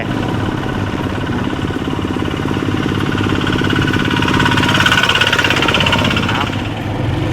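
A tractor engine chugs steadily and loudly on a rural road in southern Laos, with a constant rumbling throb that swells slightly before easing off.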